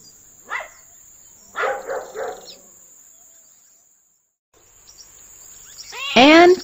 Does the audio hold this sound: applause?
no